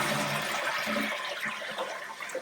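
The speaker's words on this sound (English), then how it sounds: "when I pulled this to flush just to test it" An old toilet with a broken handle and worn tank hardware is flushed, giving a loud, steady rush of draining and refilling water close up, with no talking.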